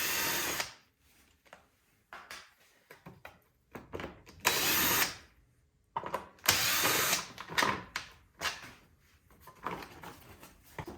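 A power drill backs out the screws holding a lawnmower's plastic shroud during a small-engine repair, whirring in short, loud, close bursts separated by brief pauses, with no talk.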